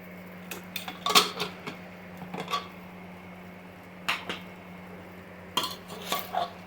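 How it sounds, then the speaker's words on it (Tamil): A spoon clinks and scrapes inside a pot as ground peanut powder is stirred into cooked bottle gourd, giving a few scattered clusters of close metallic taps over a steady low kitchen hum. "அந்த பொடியை போட போகிறோம்."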